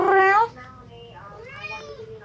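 A domestic cat gives a loud, close meow, then a fainter drawn-out second meow follows against a quiet room.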